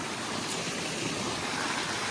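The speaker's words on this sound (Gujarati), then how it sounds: "નેચરલ પૂરો પાણીનો પ્રવાહ આવેલો આવે છે" Natural stream water flowing steadily at Jatashankar on Girnar, Junagadh, a close, dense and continuous rushing wash with no voices over it.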